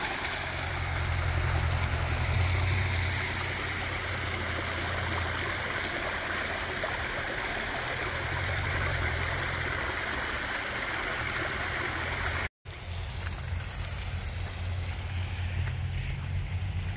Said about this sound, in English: I have a little water feature in my backyard